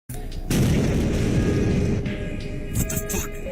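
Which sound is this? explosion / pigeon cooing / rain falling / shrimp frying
explosion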